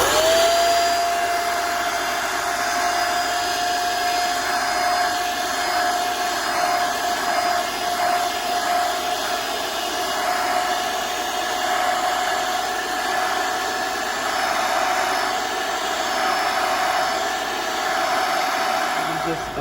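A vacuum cleaner drones steadily up close while cleaning a Honda City cabin AC filter, its motor whine holding an even pitch throughout with occasional rustling as the nozzle works over the filter.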